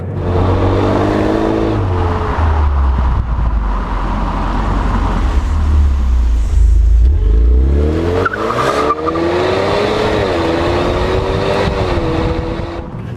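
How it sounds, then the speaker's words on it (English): A loud Ford Mustang EcoBoost turbocharged engine revs hard under acceleration, pitch climbing and dropping through gear changes, with a sharp turbo whine rising midway. "hopefully you'll hear the EcoBoost as loud as it's ever going to be"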